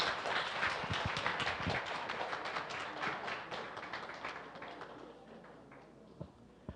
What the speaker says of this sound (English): Give him a round of applause now.